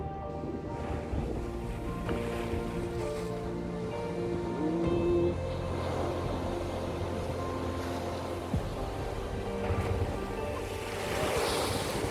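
Sea waves roll in steadily at the ruins of a coastal wave power plant, a continuous broad wash of surf with wind noise, moderately loud and unbroken, no talking.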